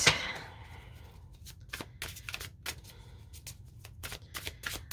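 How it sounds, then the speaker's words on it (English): Tarot cards shuffled by hand, a close, soft riffle opening into a run of quick flicking and slapping bursts, quiet and alone with no talk. "sometimes cards are hard for my little hands to shuffle"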